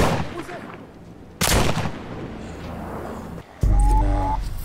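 Gunshots in The Walking Dead Saints and Sinners VR game: a couple of loud, sharp cracks separated by a few seconds of quieter ambience, the last followed by a lingering ringing tone.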